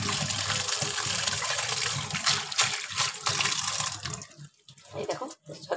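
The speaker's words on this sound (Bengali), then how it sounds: "আমি এবার এটাকে একটা ছাকনাতে একটু ঠান্ডা জলে ধুয়ে নেবো" Boiled pasta being rinsed under cold water in a strainer, a steady loud gush of running tap water for most of the clip that thins into splashes and drips near the end.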